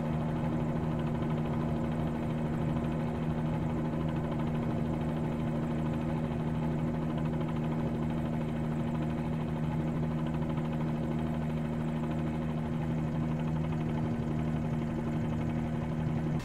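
Bell 47-G2 piston helicopter in a flight simulator game, a steady droning engine and rotor hum with strong low tonal bands, continuous and even throughout with no talk.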